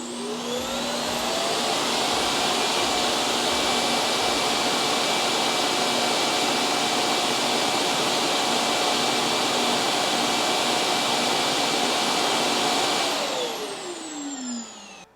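A Roborock S8+ dock auto-empties the robot vacuum's dustbin with a loud, steady suction roar and whine that starts abruptly, holds evenly for about twelve seconds, then winds down, with no talking.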